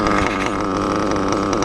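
Reedy 121-VR nitro race engine in an RC8T buggy during break-in, held at half throttle with a close, loud, buzzing whine that stays steady through a short burst.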